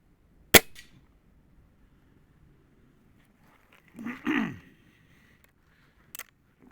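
A spring air rifle fired at a 30-yard target, one sharp close crack near the start, a brief burst of breathy noise in the middle and a short faint tap near the end, with quiet in between.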